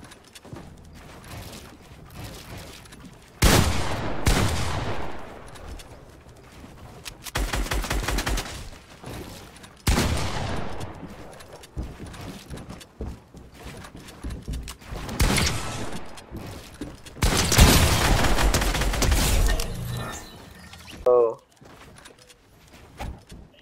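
Gunfire erupts in bursts during a Fortnite match, sharp loud volleys and rapid shots separated by quieter gaps, with a player talking over the action throughout.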